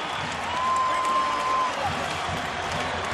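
A basketball arena crowd cheers and applauds at the end of a college game between Wyoming and Colorado State, a broad, steady roar from many people with a sustained whistle or horn note partway through.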